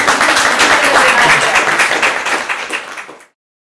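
An audience at an academic conference applauds after a talk, with dense, loud, steady clapping that thins and fades out near the end.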